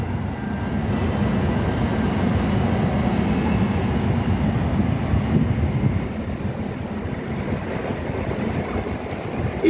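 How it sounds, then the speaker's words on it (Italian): A Trenitalia Frecciarossa high-speed train rolls into Roma Tiburtina station, a steady low rumble and wheel noise that holds for several seconds, then eases slightly as it slows along the platform. "Il treno alta velocità freccia rossa"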